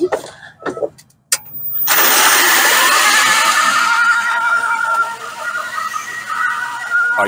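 A GEM e4 electric vehicle revived on flat batteries pulls away under its motor's power, giving a sustained loud high whine after a few short bumps and clunks at the start.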